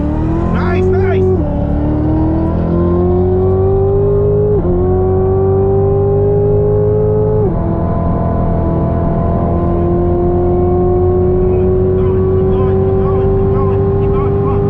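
A car launches hard on a race track at Coalinga, its engine revving up through several gear shifts with rising pitch that drops at each change, loud and close, while people talk in the background.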